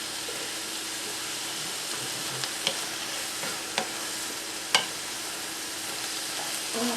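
Onions sizzle softly in a pan with a steady frying hiss, broken by a few light clicks and taps of stirring.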